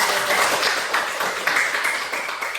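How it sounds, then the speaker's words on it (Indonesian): A classroom of students claps together in a dense, even burst of applause that lasts a few seconds with no talking. "Oke, tepuk tangan dulu."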